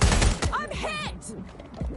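A short burst of rapid gunfire from the video game Watch Dogs: Legion, loud and close, with voices and game sounds right after it.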